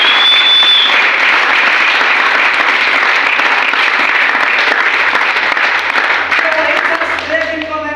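A seminar audience breaks into sustained applause, loud and dense, with many hands clapping together and fading slightly toward the end.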